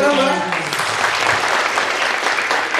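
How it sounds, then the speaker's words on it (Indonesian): Brief burst of audience applause at an Indonesian campus business event, starting as a voice trails off and continuing as a dense, steady wash of clapping. "Tepuk tangan teman-teman."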